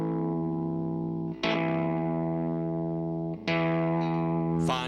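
Electric guitar through an Electro-Harmonix interval-mirroring effects pedal, long sustained chords with thick, buzzy added harmonies, struck three times with brief attack bursts between the held tones.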